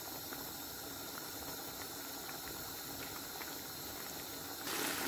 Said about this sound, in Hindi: ये देखिए पानी पकना शुरू हो गया है